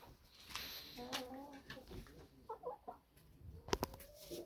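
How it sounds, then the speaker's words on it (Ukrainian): Several chickens cluck in short, irregular bursts at close range, with a few higher squawks and a steady background murmur. "кури тут уже насідало йдуть"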